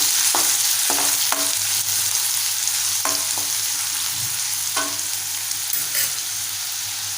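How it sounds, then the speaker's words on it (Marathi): Finely chopped large onion sautéing in hot oil in a pan for prawn rice, a continuous close sizzle with intermittent clicks and scrapes from stirring. "इथे आपण एक मोठा आकाराचा कांदा बारीक चिरून घेतला तो घालूया परतवूया"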